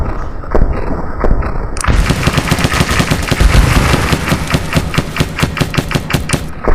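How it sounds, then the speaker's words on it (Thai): A machine gun mounted on a military vehicle fires a loud, rapid sustained burst of heavy repeated shots after a brief earlier pop, close and overpowering, with no talking. "แรงมากๆเลยสำหรับปืนของรถทหารครับ"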